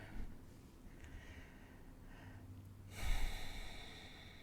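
Quiet, slow breaths move in and out, soft and close in a calm, still room, with a fuller exhale near the end.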